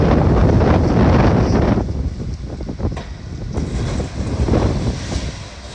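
Strong wind roars and buffets the microphone at a school demolition site, a steady loud rumble with gusty swells throughout and no speech.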